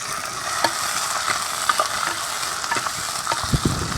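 Onions sautéing in a hot pan for a lentil curry, a steady sizzle and frying hiss with occasional light stirring scrapes and clinks, close and continuous.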